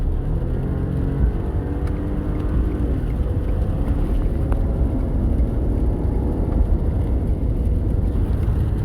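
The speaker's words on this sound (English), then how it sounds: "I just had to overtake a vehicle on a straight stretch." A car cruises along a highway while overtaking another vehicle, its steady engine and road rumble loud and continuous, with a low whir building slightly and no voices.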